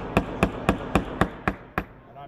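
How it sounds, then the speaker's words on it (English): Seven sharp, evenly spaced hammer blows drive a tapered extractor into a drilled-out broken stud, each strike a crisp metallic tap close by, ending with a short pause. "So I'm gonna go ahead and hammer."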